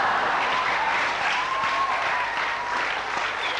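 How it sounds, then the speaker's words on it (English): Steady audience applause at a school anniversary event, dense and even clapping that holds at full strength for a few seconds with no talking over it. "I'd like to have a round of applause for Karina James this week"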